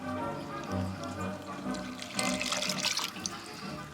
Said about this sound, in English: Then I'm going to add 1 cup of water.